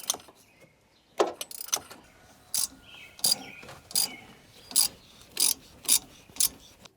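Wrench working a stripped nut off an engine stud, a series of sharp metallic ratcheting clicks in irregular bursts, close and fairly loud, with no talking.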